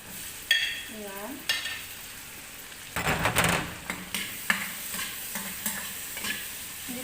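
Onions go into a pan for a sardines-with-egg dish, giving a sizzle beneath clattering spoon strokes and pan knocks that come in bursts, with a brief louder frying rush partway through.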